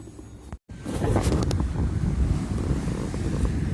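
Strong wind on the seashore at Silifke, Turkey, roars and buffets the microphone in a loud, continuous rush after a brief cut, with a low surf-like rumble beneath.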